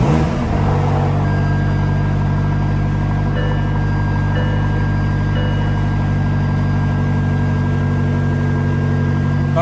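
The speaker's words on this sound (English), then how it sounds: "we'll start the car" A McLaren 570S sports car engine runs with a steady, loud low rumble that fills the whole stretch, close by and alone with no voices.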